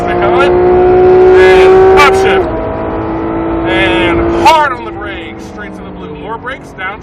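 A Porsche 911 GT3 RS engine revs hard on a race track, rising and falling through gear changes, with a close, loud note under a man giving continuous driving instructions.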